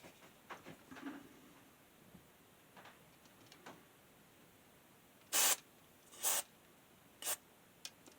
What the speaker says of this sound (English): let's just put some contact cleaner on these switches as well